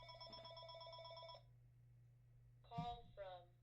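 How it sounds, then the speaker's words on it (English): An incoming-call telephone rings with a bright, repeating electronic trill for over a second. After a pause, a couple of short, clear tone bursts follow, heard close and alone. "I've got a phone call coming in."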